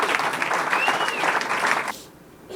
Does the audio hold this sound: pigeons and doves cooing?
no